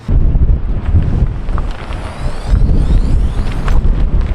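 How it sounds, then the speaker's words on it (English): Strong, gusty wind buffets the microphone at a windswept campsite in Donegal, loud, rumbling and uneven, with no talking. "Everywhere we go is just so windy."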